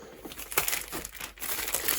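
Crinkling of a Nova Poshta plastic mailer bag being handled while comics are unpacked, with rustling bursts at close range that rise and fall without a break.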